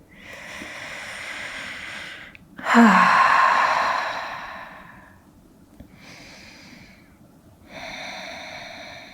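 Deep yoga breathing during a seated stretch, heard as slow, close breaths: a soft inhale, then a long, loud, airy exhale, and later two quieter breaths separated by pauses.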